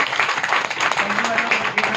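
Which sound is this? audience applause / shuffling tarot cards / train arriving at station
audience applause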